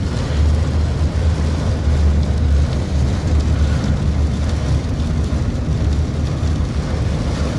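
Torrential rain hammers down during a road journey, a dense, loud, unbroken roar mixed with the low rumble of the vehicle moving along the road.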